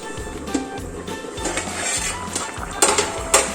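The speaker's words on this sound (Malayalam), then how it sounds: "ഇനി ചിക്കൻ വേവുന്നത് വരെ നമുക്ക് അടച്ചു വെച്ച് കൊടുക്കാം" Metal pots and utensils clank and clink as a pot of coconut-milk chicken curry is handled and covered with its lid, several sharp close knocks over a low background hum, with no talk.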